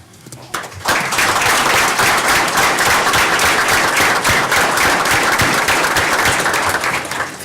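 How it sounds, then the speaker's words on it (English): A community outlook event audience applauding veterans, a loud, full round of clapping that starts sharply and holds steady for several seconds. "we'd love to give you a round of applause"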